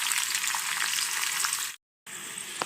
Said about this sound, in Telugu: ఉల్లిపాయలు ఇలా పొడవుగా కట్ చేసుకొని లైట్గా ఉప్పు కలుపుకొని వీటిని పకోడీలాగా వేపుకోవాలి